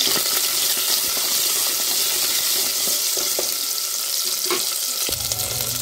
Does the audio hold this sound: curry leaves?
yes